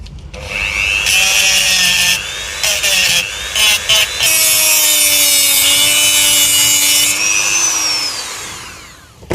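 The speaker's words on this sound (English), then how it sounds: "We'll give it a little scruff up with the Dremel first." A Dremel rotary tool scuffs the surface of a Milwaukee M18 8.0Ah battery cell in loud, close bursts of high grinding whine, starting and stopping several times with pitch sliding as the tool loads and frees up.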